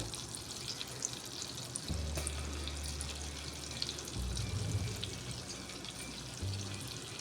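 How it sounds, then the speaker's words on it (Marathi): Garlic sizzling in a spoonful of oil in a pan for a quick macaroni soup, a steady, dense hiss with some low rumbling shifts, close and continuous, with no voices. "यातच आपण एक चमचा तेल घालणार आहोत. यात आपण आता लसूण घालूया."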